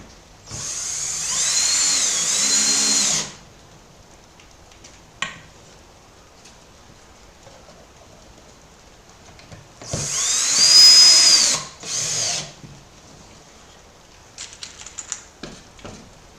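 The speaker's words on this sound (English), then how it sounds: "So let me go ahead and I'll start drilling these in." Power drill driving screws into a wooden mason bee nesting box, two loud whirring bursts of about three seconds each with quiet handling sounds between and small clicks and taps at the end.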